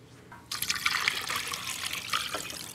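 Water poured over chicken into a stock pot for basic chicken stock, a steady splashing pour that starts abruptly, runs continuously, then briefly tapers and resumes near the end.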